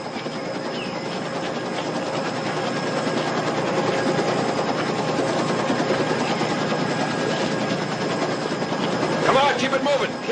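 A military helicopter's rotor chops and whines continuously at close range in a war-film combat scene, with gunfire-like crackles and shouting voices mixed in near the end.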